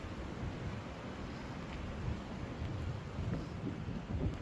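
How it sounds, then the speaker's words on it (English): Heavy wind and rain batter an outdoor area where a tarpaulin has blown off, a low, rumbling roar with buffeting gusts, fairly faint and continuous throughout. "It's heavy wind. It just started, guys."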